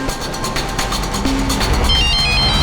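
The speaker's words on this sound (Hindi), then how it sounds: "कविता का फोन है।" A mobile phone rings during a televised crime drama scene, a short electronic ringtone pattern sounding over a busy, steady room background with no talk.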